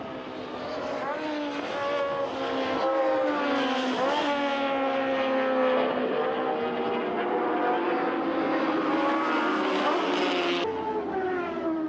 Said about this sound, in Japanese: 吉村森脇のライダーも必死に追いすがりますが、トップのガードナーを捉えることはできません。